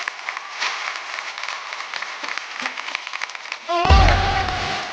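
Studio audience applause at a Hindi TV comedy talk show as a film actress, writer and director walks on stage; dense crowd clapping fills the clip, swelling loud near the end with a bright music sting over it.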